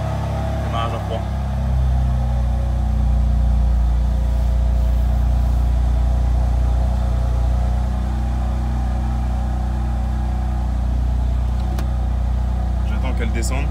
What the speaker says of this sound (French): Démarrage à froid.